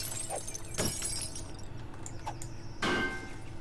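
Glass windows shattering in the 7 Days to Die video game, with a few sharp breaking crashes spaced across a steady low background hum and no talking.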